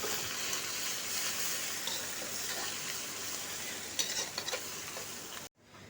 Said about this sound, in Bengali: এরপর আমি বাঁধাকপির জন্য ফোড়ন দিয়ে দিচ্ছি।